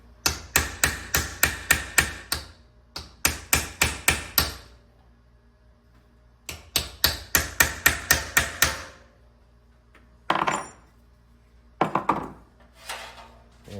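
A flat punch is hammered on a vent window frame of a 1972 GMC Jimmy, sharp metallic strikes coming in quick close bursts of about eight blows each, separated by pauses, with a few scattered taps near the end.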